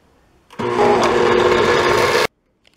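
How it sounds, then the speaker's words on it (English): A blender whirs loudly for about two seconds, blending vegan cheese sauce ingredients with agar powder, starting and stopping abruptly with near silence on either side. "go ahead and blend all the ingredients together"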